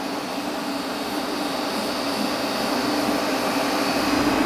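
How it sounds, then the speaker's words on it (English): Pressure-washer jet hose rinsing cleaning solution off bare alloy wheels from a Mercedes C63 AMG Black Series, a loud continuous hiss and roar with no break. "What we're going to do now, we're just going to jet hose all of that off"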